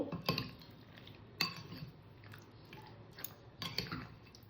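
Chicken for pakora being mixed by hand with yogurt, coriander and salt, heard as soft, wet squishing and kneading with a few sharper taps, quiet and close, no talking.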